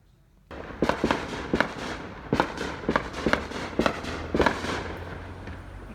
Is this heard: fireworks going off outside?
yes